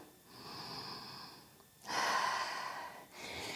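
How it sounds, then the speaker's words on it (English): Deep breathing during a yoga and functional training session: a long audible inhale, then a stronger breathy exhale and another breath close up, without speech. "Big breath here."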